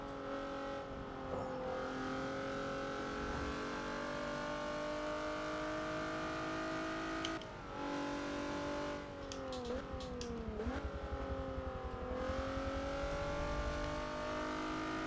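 A damaged race car in the racing video game Forza, played on a steering wheel, drones steadily around a track with a loud sustained engine note that rises and dips through gear changes, with brief tyre scrubs mid-lap.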